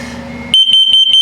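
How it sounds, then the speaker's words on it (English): A shrill RV carbon monoxide detector alarm under test starts abruptly after a low hum, sounding a rapid series of loud, piercing high-pitched beeps. "Carbon monoxide coming up."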